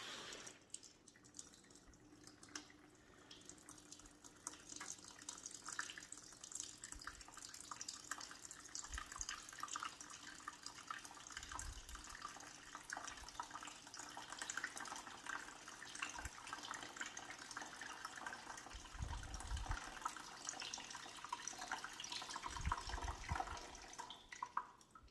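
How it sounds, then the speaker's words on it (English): Water is poured out of a covered rock tumbler barrel during a tumbling run on wild horse picture jasper, a steady faint splashing and trickling with occasional drips and small low thumps, and no talking. "So I'll cover the top, we'll dump the water out."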